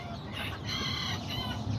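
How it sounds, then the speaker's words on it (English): A rooster on a small farm clucks in a steady run of short, close calls over a constant low background hum, with no talking. "This is the dad to that little rooster right there."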